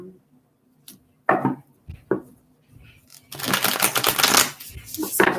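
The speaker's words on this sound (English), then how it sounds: "why are you typing?" Rapid keyboard typing clatters in dense, close bursts, mostly in a long busy stretch near the end, with a few isolated clicks and faint low hum before it; no one speaks over it.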